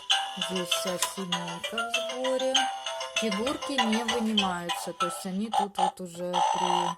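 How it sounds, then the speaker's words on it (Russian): A Peppa Pig toy car with a family of figures fixed inside plays cartoon sound effects and tune snippets in its Try Me mode, bright electronic tones running continuously while someone talks over them. "то будут вот такие вот звуки из мультфильма"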